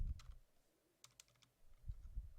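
Computer keyboard typing at close range, a few quick bursts of key clicks separated by short pauses, quiet and alone.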